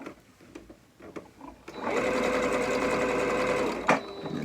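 A sewing machine stitching elastic along a seam runs in a steady, fast mechanical whir for about two seconds after a few faint handling taps, close and clear with no one speaking.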